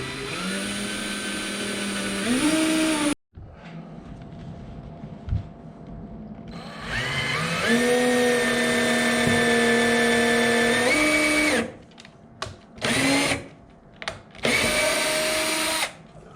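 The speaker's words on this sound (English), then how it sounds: "I'm just going to re-drill them real quick" A power drill re-drilling screw holes in wood whirs in several bursts, its motor pitch climbing as it spins up, with short pauses between runs and a few quick final pulses.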